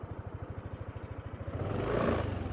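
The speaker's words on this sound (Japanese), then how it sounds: "今エンジン始動しました。" A Yamaha NMAX 125 ABS scooter engine, freshly started, putters at idle in a quick, even pulse, faint and close, then swells into a louder, smoother hum near the end.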